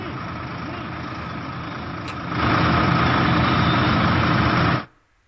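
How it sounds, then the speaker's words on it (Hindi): Tractors driven by women farmers from Hapur, Uttar Pradesh, heading to a Republic Day farmers' tractor rally, give a steady engine rumble that swells louder partway through and then stops abruptly. "उत्तर प्रदेश के हापुड़ से महिला किसान भी अपना ट्रैक्टर लेकर निकल पड़ी हैं"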